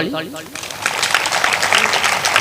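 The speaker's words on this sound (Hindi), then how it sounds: "तो बजाओ ताली" A congregation at a Hindi satsang sermon breaks into clapping right after a short spoken phrase, a dense wash of many hands that stays steady and fairly loud under a little overlapping voice.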